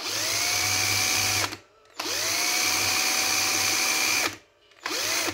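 A cordless drill, topping out around 600 rpm, spins a small water-and-wind turbine alternator, giving a loud steady whirring whine with a rising tone at each start, in three bursts separated by short pauses.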